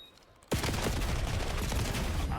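Automatic gunfire erupts in a Call of Duty match at a CDL Major esports tournament, bursting in abruptly after a quiet start, then staying loud and dense with rapid overlapping shots.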